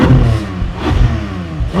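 A Porsche Boxster GTS 4.0 sports car engine revs in neutral and settles in a couple of loud swells, with a deep mid-range rumble throughout.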